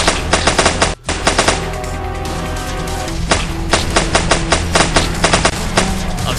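Rapid bursts of video game submachine gun fire rattle loudly in quick succession, with a brief pause before more sustained firing continues.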